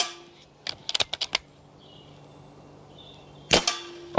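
A GAMO air rifle firing 4.5mm and 5.5mm pellets at metal targets gives a quick series of about seven sharp snapping cracks, then a pause and two louder clanking hits near the end, with no talking.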